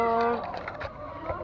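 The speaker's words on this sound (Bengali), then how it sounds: "কবুতর" A pigeon coos at a zoo in Rajshahi, a short, soft, throaty call heard close at the start and fading after, with faint background murmur.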